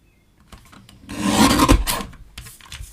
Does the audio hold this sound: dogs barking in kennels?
no